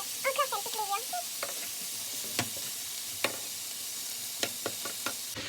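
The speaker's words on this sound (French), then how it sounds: "Après avoir mis mon steak et mes oignons dans la poêle, je laisse cuire, chauffer." Ground beef and onions fry in a pan with a faint steady sizzle, broken by a few light taps of a utensil stirring; a brief voice sounds at the very start.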